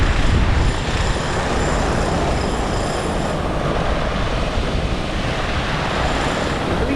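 Indian Ocean surf at the Puducherry beach, a loud, continuous broadband wash of breaking waves with no clear pauses.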